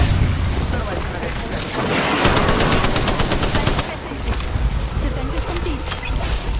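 Rapid automatic gunfire fills a video game battle in loud, dense bursts and scattered booms, with a voice talking over the shooting throughout.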